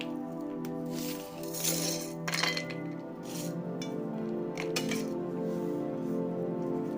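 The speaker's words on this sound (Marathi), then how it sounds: "तुम्हाला काढून दाखवते बघा आवाज पण प्लेट प्लेटमध्ये काढून दाखवते" Dried pieces of sun-dried ginger clink and clatter onto a plate in a scattered series of light, hard taps, close by and fairly quiet, with a steady tonal hum running beneath.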